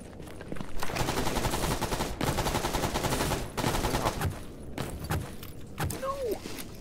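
Repeated gunshots fired at a boar in a survival shooter game, a dense stretch of rapid automatic fire with brief pauses, followed by scattered single shots, with a voice speaking faintly underneath.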